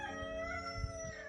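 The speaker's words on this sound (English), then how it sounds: "There are so many chickens." Chickens calling in a poultry pavilion at an eventing horse trials, sustained drawn-out fowl cries heard fairly faintly and close together over low background noise, with no talk.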